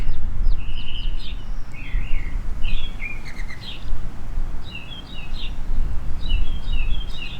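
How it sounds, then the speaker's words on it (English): Birds chirping outdoors in short bright repeated phrases with brief pauses, moderately near, over a steady low rumble of wind or distant traffic; no talking. "You can hear the birds chirping."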